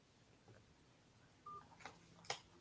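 Telephone keypad tones dialing into voicemail, a few quick faint beeps at low level, with one clearer, sharper tone near the end.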